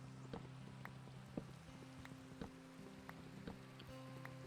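Quiet, steady rainfall in modded Minecraft (MineColonies), a soft constant patter with occasional louder drips over a low hum.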